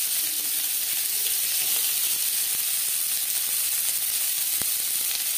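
Chopped onions sizzle in two spoons of hot oil with a constant, close hiss, dotted with a few faint crackles and pops and no voices.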